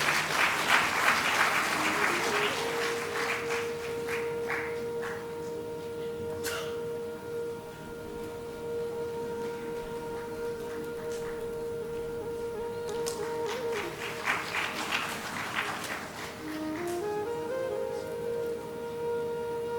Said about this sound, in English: I expect a big round of applause.